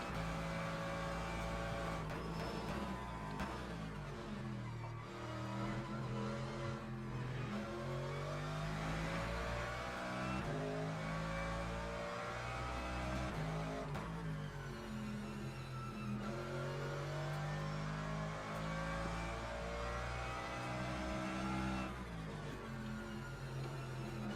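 A race car engine at Monza screams continuously through acceleration and gear changes, loud and close throughout with steady high-revving harmonics and no talk.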